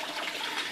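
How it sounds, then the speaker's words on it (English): Water from an aquaponics pump rushing out of the sump into the grow bed, a brief steady gushing splash, near and continuous with no talk. "So the water starts in the sump, gets pumped out to the grow bed."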